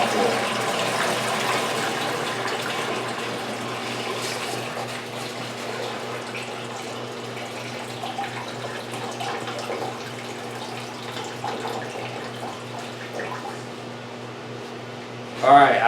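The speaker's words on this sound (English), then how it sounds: "you want to pour the tray of water out, but you don't want to squish the Rockwool" Water pours steadily out of a plastic seed starter tray holding soaked Rockwool cubes, a continuous trickling gush that thins over the stretch before a brief clunk at the end.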